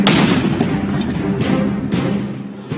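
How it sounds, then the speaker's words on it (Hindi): A rocket launcher fires near the Afghan border during an anti-narcotics operation, a loud, sustained blast roar with a second surge of noise partway through. "अभी एक रॉकेट लॉन्चर फायर किया गया है।"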